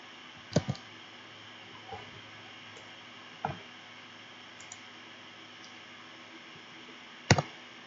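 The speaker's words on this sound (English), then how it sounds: "So I'm pressing 2 on the keyboard" A few sparse keyboard key clicks tap at irregular intervals over a faint background hum, each press short and crisp.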